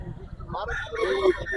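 A rooster at a poultry market crows in a drawn-out call over busy crowd murmur and nearby talk.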